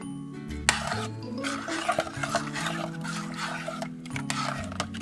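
A spoon stirs ground ginger and cinnamon into elderberry syrup in a pot, scraping and clinking against the metal with liquid swishing, close and fairly steady with a few sharper knocks.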